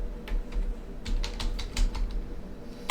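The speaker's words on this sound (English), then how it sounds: "I'm just going to type that in right here" Quick, crisp keystrokes on a computer keyboard come in short bursts and pauses, close and clear over a faint low hum.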